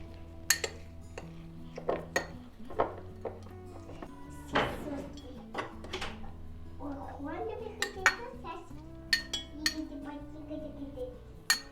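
A metal spoon clinks and taps against glass again and again, mashing mint and lime for a mojito, irregular knocks and scrapes close by, with a few soft muffled thumps between them.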